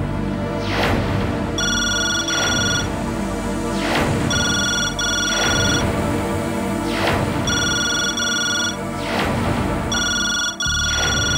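A phone rings in repeated electronic bursts, about four cycles of a tonal ringtone with short gaps between them. Each burst is loud and close, and thumping sounds fall under the rings.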